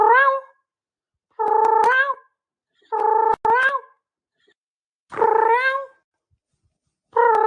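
Cats meow in a series of five or six loud, close, drawn-out calls separated by short silences.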